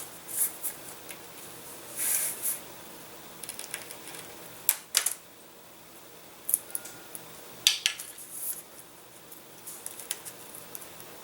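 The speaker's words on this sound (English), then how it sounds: "take these skewers and we're going to cut them to length" Scissors snip wooden skewers to length for a foamboard glider, giving quiet, scattered crisp clicks and cuts in irregular clusters over a faint background.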